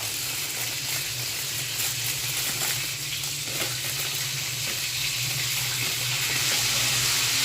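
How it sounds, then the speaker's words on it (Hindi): Chicken nuggets frying in oil, a continuous even sizzle and crackle held at moderate level throughout, with no talking over it. "नगट्स फ्राई कर रही हूँ"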